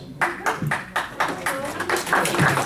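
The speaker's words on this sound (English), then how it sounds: "That's not a unanimous clap" Scattered attendees at a condominium board of directors meeting give a thin, halting round of claps, a handful of distinct slaps spaced irregularly, close and moderately loud in a quiet room.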